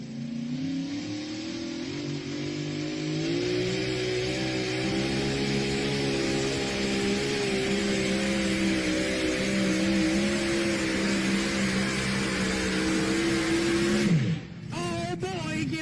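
A tractor pull engine at Mount Gilead, Ohio revs hard in a loud sustained roar that holds a rising pitch for many seconds, then cuts off abruptly near the end.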